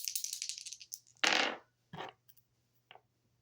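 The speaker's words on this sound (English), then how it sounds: "rolling the dice to see what I need to shuffle a deck to" Dice rolled for a tarot reading clatter in several quick, sharp bursts on a hard surface, close and fairly quiet, separated by short pauses.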